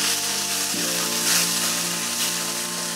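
Onions frying with ginger paste and green chilli give a loud, dense, steady sizzle and hiss, with a low tonal hum beneath that shifts pitch once early on; continuous throughout, no voices.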